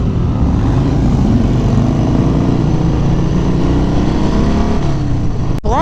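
A 2018 Harley-Davidson Sport Glide cruiser rides along in 4th gear, a loud, steady engine drone mixed with heavy wind rush, closely recorded, with a brief dropout near the end.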